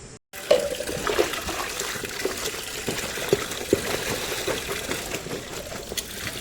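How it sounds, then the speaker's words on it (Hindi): Water pours and splashes steadily while a stray dog is being washed outdoors, a continuous close rushing stream with occasional small splashes and knocks. "ओए मेरे को पानी डाल रहा है"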